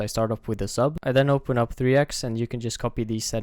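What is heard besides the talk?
No distinct noise like a dog, phone or traffic.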